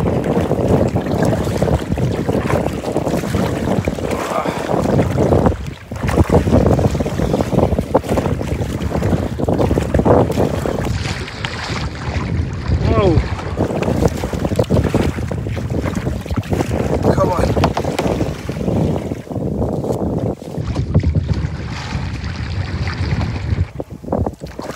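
Strong wind roars against the microphone while big waves wash and slap around a kayak on Lake Athabasca, a loud, gusting, continuous rush with surging water and occasional splashes, with no talk.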